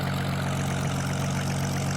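A struggling engine, apparently short of fuel, running steadily in a low, droning hum with a constant rumble and no pauses.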